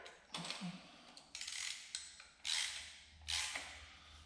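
A timing gear is worked off the crankshaft snout of a CUCV engine, giving four or five short, faint metallic scraping and creaking bursts with brief gaps between them.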